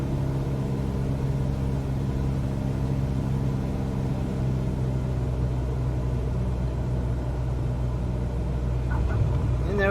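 Simulated aircraft rolling down a runway after landing in Microsoft Flight Simulator at Chichen Itza, throttle nearly cut: a steady, loud engine and wheel rumble drones throughout, with a slight bump near the end.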